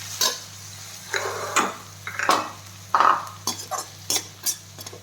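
Chopped tomatoes and curry leaves being sautéed in a pan give a string of separate scraping and clinking strokes from a spoon against the metal, close and fairly loud, with only a faint sizzle underneath.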